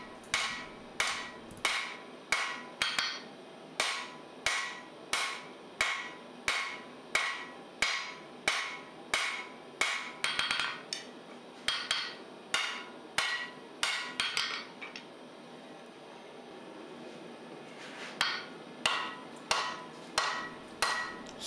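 A hammer strikes a hot wrought iron and steel billet as it is drawn out at the forge. Sharp ringing blows fall in a steady, even rhythm, pause briefly, then resume close and clear.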